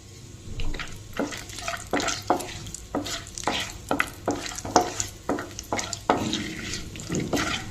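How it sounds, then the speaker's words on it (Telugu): Cashews frying in a pan for jeera rice, with repeated rhythmic scraping strokes of a spoon over a soft sizzle, close and fairly loud. "అందులో కాజు వేసుకుందాం."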